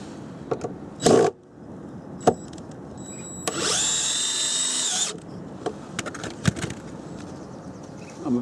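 A power drill whirs as it drives a screw into a wooden raised bed on an allotment, one steady burst of about a second and a half amid knocks and handling clatter outdoors.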